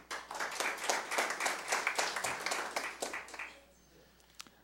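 Applause greeting council members at a civic ceremony, a crowd clapping briskly and evenly for about three seconds before fading out to a quiet room with a stray clap.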